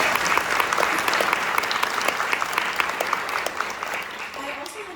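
Steady applause from an audience at a university awards ceremony, dense clapping that holds for several seconds and thins slightly toward the end.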